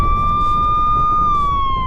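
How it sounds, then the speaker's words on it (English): A wailing emergency siren effect rises and holds steady, then slowly falls away, loud and continuous over a low rumbling bed with no talk. "Do some sirens and explosions and Phil, go on."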